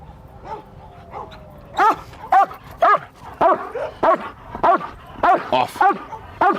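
An LAPD K-9 police dog barks rapidly and insistently, a string of about a dozen close, loud barks in steady rhythm, with a man's brief command heard at the start.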